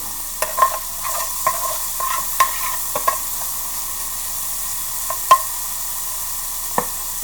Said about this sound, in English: we're going to let this bacon go till it gets nice and brown on it to start to crisp up